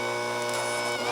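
Orange cake batter made with regular all-purpose flour being mixed by an electric mixer, a steady droning motor whir that runs evenly throughout, close and fairly loud with no speech.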